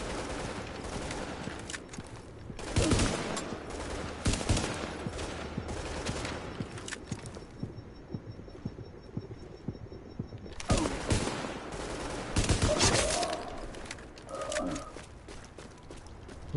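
Gunfire in Tom Clancy's The Division, an online urban third-person shooter: bursts of sharp close shots in rapid clusters, with a quieter lull in the middle before heavy shooting resumes.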